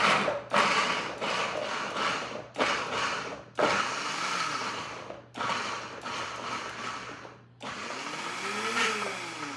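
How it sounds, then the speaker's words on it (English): A kitchen blender pulses two cups of chopped carrots for a carrot cake, with several loud, separate bursts of whirring and rattling divided by short pauses, close and without speech. "So I will put my 2 cups of carrots in the blender, and I'm gonna pulse this."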